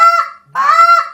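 A short reed honker call imitates a Canada goose: two loud, close, nasal honks, the second rising and breaking sharply, separated by a short pause.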